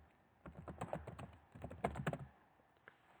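Quick bursts of keystrokes clatter on a computer keyboard, two clusters of close, light taps with a short pause between them and a final faint tap.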